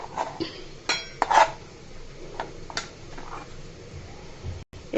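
Chopped green chillies being scraped and dropped into a bowl while cooking a potato-and-flour snack, giving a few light clinks and taps of utensil against dish, spaced irregularly and close by, with no talk.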